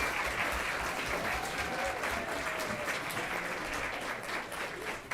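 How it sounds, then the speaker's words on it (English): Steady applause from a seated audience at a board meeting honouring poster contest winners, a dense continuous patter of clapping hands lasting several seconds, with a voice briefly heard underneath. "Can we have another round of applause for our poster contest winners,"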